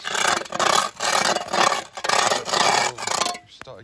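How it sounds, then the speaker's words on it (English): Moss and weeds being scraped off a patio, a harsh rasping scrape repeated in steady strokes of about half a second each, close and fairly loud, stopping near the end. "The colleagues just started scraping already around the edges."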